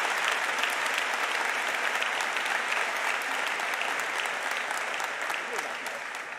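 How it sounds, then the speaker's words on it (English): A hall full of people applauds graduates of a mathematics department at a university commemoration ceremony, steady dense clapping throughout that eases off slightly at the close. "Please join me in a round of applause for the graduates."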